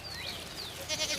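Goats and sheep of Rebari herders in the Aravalli hills bleat near and loud through a short stretch, several overlapping calls over a low background, with no talking.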